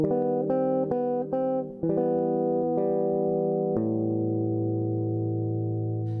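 A guitar plays a short phrase of plucked notes from a song, ending on an open A that rings out and sustains, with a slightly processed electric tone.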